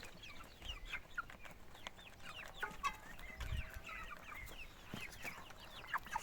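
Several two-month-old chicks, including a young rooster, cluck and chatter nearby in a steady, busy stream of short calls, with occasional louder squawks and faint background noise.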